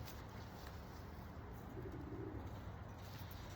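A blue bar white light racing pigeon coos softly in a low, murmuring call, faint under a steady hum of background noise.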